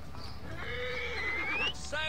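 A horse in the video game Assassin's Creed Origins whinnies loudly up close in a long rising neigh, followed by a short snort, over a low ambient background.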